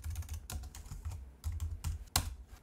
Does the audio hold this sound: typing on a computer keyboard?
yes